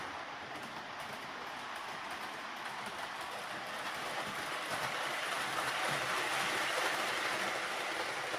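Model ICE Experimental train cars, four coupled, rolling along a toy track with a continuous rattling, clickety-clack whir that grows slightly louder partway through, alone with no voices.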